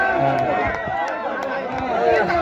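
A crowd cheers at a Muay Thai fight: a dense, steady roar of many shouting voices, loud and sustained throughout, with no single voice standing out.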